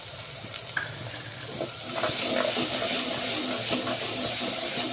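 Crushed green chillies go into a peanut and fenugreek leaf curry frying in a pan, a low sizzle that swells into louder, continuous frying and stirring noise partway through.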